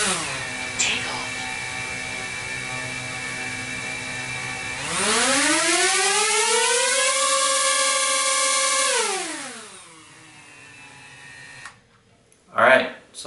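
A DJI Mavic Air drone's motors whine steadily during a thrust test, then spool up to a louder, higher pitch for about four seconds before winding down; close and alone, with a brief clatter at the end.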